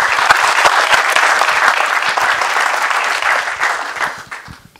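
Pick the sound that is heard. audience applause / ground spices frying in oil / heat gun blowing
audience applause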